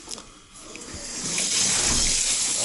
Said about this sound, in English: Could you test the shower?